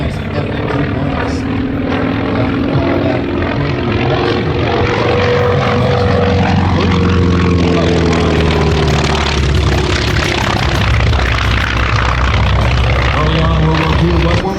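F4F Wildcat warbird making a low strafing pass over the infield at a redwoods airshow, its loud propeller engine droning continuously with rising and falling pitch as it sweeps by.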